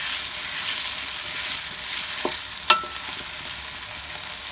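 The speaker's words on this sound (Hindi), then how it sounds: "हमने मसाले को और आलू को अच्छी तरह भून लिया है" Potatoes with crushed red chilli, salt and spices being stir-fried in a pan for a cauliflower curry, giving a steady soft sizzle with a couple of brief scraping stirs, close and without talk.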